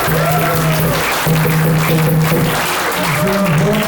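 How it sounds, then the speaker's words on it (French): Wedding guests applauding, a loud, dense, continuous clapping from a close crowd, with a voice talking over it. "Est-ce qu'on peut l'applaudir, s'il vous plaît?"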